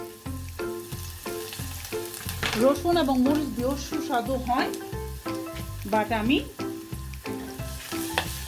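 Sliced onion fries in hot oil for a rui fish vorta, a close, busy sizzle with stirring clatter, while someone talks over it.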